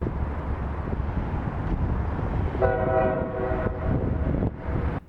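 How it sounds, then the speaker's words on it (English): A CSX train rumbling along the track in Indianapolis with a steady low roar, a horn sounding briefly partway through, heard from a distance. "I saw a train in the distance"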